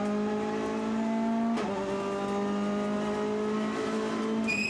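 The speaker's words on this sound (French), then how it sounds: "Derrière, 2 voitures se bagarrent et se rendent coup pour coup aussi." Volkswagen Golf GTI touring cars racing at a WTCR round in Ningbo, China, two battling closely: a loud, sustained engine drone holds steady, dips briefly as the revs drop and recover, then a higher whine cuts in near the end.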